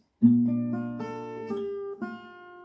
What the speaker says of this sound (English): Next chord is the F, and that part sounds like this.